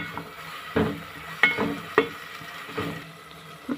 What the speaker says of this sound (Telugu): ఇప్పుడు పుదీనా, కొత్తిమీర వేసుకొని బాగా మనము తిరిగి ఫ్రై చేసుకుందాం.